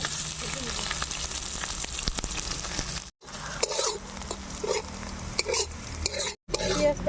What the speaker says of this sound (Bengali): তরকারি বসানোর জন্য আমি শুকনো লঙ্কা আর কালো জিরে ফোড়ন দিয়ে নিলাম।